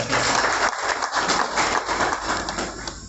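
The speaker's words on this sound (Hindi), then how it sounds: "तालियों से उसका स्वागत किया जाए।" An audience at a political gathering in Kharkhoda, Sonipat district, claps continuously to welcome a guest; dense, steady applause fills the whole clip, loud and close, with no speech over it.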